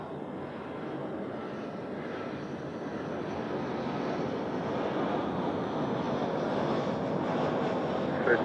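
An airliner at Zurich Airport, heard as a broad steady engine roar that slowly swells louder over several seconds, with wind buffeting the microphone.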